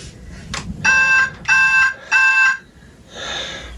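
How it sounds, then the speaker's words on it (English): Three steady electronic beeps from a Power Rangers RPM Dillon and Ziggy toy morpher, Japanese version, evenly spaced, followed by a softer buzzing tone at the end; no talking. "if I hold this button up, it makes kind of a beeping sound or a racing sound"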